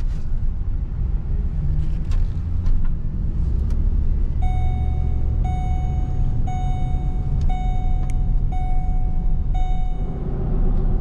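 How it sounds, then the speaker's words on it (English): Choppy humming tire noise from a 2012 Ford Expedition 5.4 3-valve 4x4 with rotated but unreplaced tires, a steady loud cabin rumble while driving, with a faint repeating chime over part of it. "I do still hear some of that choppy humming buzzing noise"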